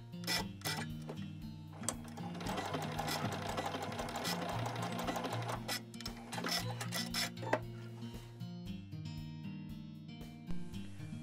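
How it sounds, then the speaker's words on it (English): A sewing machine stitches a quarter-inch seam across a quilted patchwork panel for a drawstring project bag, its rapid mechanical chatter running in bursts with brief pauses and soft clicks. "And now sew on top of that mark for about 1/4 inch."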